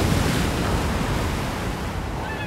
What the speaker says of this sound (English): winter draws near, the first storms roll in, battering the Seven Sisters